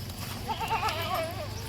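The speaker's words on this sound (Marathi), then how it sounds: "पहिल्या दुसऱ्या व्याताच्या शेळ्या आहेत, मोठ्या मोठ्या एकदम" Large goats in their first or second kidding bleat in wavering calls, two or three nearby cries in quick succession over a low background rumble.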